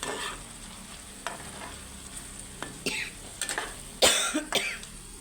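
Chicken red curry with home-pickled bamboo shoots being stir-fried in a pan, a close sizzle broken by scraping stirs and a few coughs partway through.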